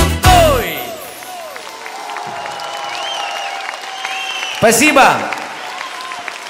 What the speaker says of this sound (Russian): Эти аплодисменты говорят о том, что не один я боюсь летать